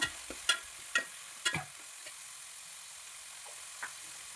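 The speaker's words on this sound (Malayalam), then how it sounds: "നന്നായിട്ട് ബ്രൗൺ കളറാകുന്നത് വരെയും വഴറ്റണം." Chopped onions and curry leaves sauté in a pan while being stirred, a quiet frying hiss broken by several sharp scraping clicks of the spoon, the strokes thinning out toward the end.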